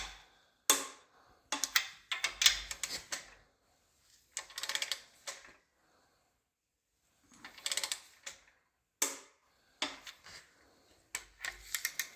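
Engine bolts on a 1958 Pontiac Sedan Delivery are cross-tightened with a ratchet, heard as quiet, scattered bursts of clicking and handling noise with gaps between, close by.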